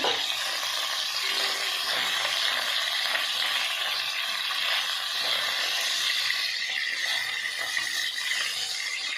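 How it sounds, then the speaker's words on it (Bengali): Steady, dense sizzling and crackling of fish frying in oil, close and continuous throughout with no voices. "এই যে মাছটা ভাজা হয়ে এসছে।"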